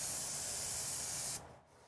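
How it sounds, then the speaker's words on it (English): A can of spray paint gives a steady, loud, close hiss for over a second during miniature painting of a Games Workshop Deathworld Forest terrain kit, then cuts off sharply, leaving quiet room tone. "You can just do a test spray."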